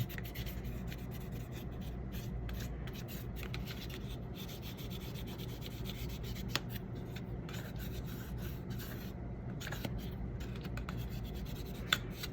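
A Godhand Kamiyasu sanding sponge at fine grit rubs steadily over a surface, with close, soft, continuous rasping strokes and a couple of faint ticks, heard alone in a quiet room.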